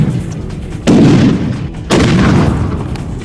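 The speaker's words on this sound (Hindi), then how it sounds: "उन्होंने ताबड़तोड़ इतने मोर्टर दागे कि जिस वीरान इलाके में सन्नाटा पसरा था वो भी बुरी" Mortar and artillery fire in a war zone in Yemen: two heavy, loud blasts about a second apart, each with a broad rumbling decay over a steady background roar.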